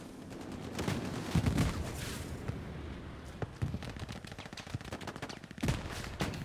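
Bursts of rifle and machine-gun fire in the World War II shooter Hell Let Loose, rapid cracks near and far with scattered single shots, fairly faint overall.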